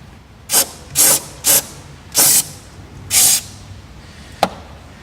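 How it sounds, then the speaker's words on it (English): Five short bursts of carb cleaner aerosol spray hissing close by onto engine sensors of a Ford Focus ST 225 Mk2, each about a quarter to half second long, followed by a single sharp click. "I'm going to give all these sensors a good old spray out as well."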